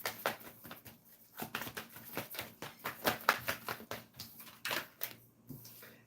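Tarot cards are shuffled in quick irregular bursts, a string of soft, crisp riffles and taps close by, fairly quiet with short gaps between flurries.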